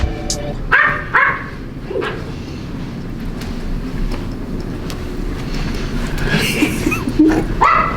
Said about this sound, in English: That is a dog in one of these hotel rooms.